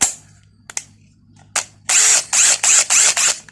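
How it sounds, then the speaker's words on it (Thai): A cordless drill whirs in several short, loud bursts with brief pauses between them, preceded by a few faint clicks and taps. "สว่านทำงานนะ ครับผม"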